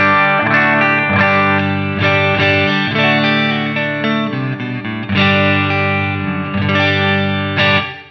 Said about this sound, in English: So I've gone back to the clean channel now, which sounds like this.